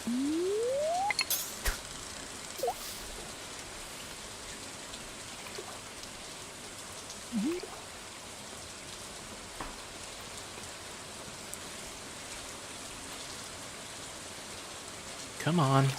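Steady rain pattering across the background of a Stardew Valley farm day, soft and continuous, with a few brief game chimes and sound effects rising above the wash.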